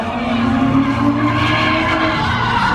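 A car's tires break loose and skid in one loud, continuous scrubbing howl, with the engine rumbling underneath throughout.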